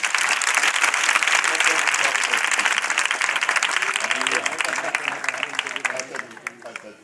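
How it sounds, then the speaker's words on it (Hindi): Loud, dense applause from a church congregation at a pastor's gathering, steady for several seconds and then thinning toward the end, with voices mixed in. "भाई के लिए जोरदार तालियां बजाएं।"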